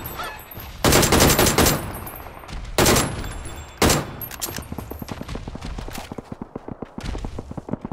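Gunfire in the battle royale video game PUBG, with several loud close bursts of rapid shots, then quicker rhythmic clattering pops. Nobody talks over it.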